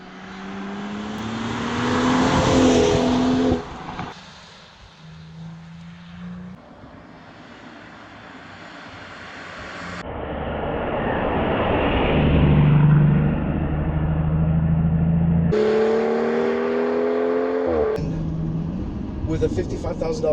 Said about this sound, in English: I really hope you can hear that exhaust.